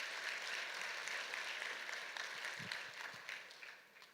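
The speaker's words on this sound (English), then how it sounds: "A round of applause, please, ladies and gentlemen." An audience at a high-level conference opening session applauds continuously, fairly faint and distant, with the clapping gradually thinning out toward the end.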